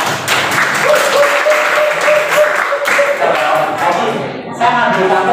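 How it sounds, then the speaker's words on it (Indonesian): Audience applause at a teacher training session on differentiated learning, a loud, dense wash of clapping from a full room that carries steadily and thins slightly toward the end, with a faint tone under it. "Sebelumnya tepuk tangan untuk Anda semua."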